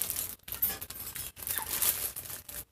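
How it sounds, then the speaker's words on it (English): Plastic bag crinkling and rustling in close, irregular bursts with brief pauses, handled near the microphone during a doll bathing and feeding session. "I always use my plastic bag."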